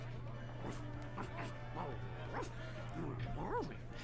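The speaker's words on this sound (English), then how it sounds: "I entirely forgot that you can talk to the dog." A dog character in Monkey Island Special Edition lets out a run of soft, rhythmic woofs and yips against a steady background hum, with a higher whimpering note near the end.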